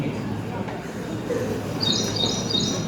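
Thin, high chirping calls of an ashy prinia, a very small bird, rise in the second half amid noisy background and a faint voice, near the foothills by a hill in the Yeoor area.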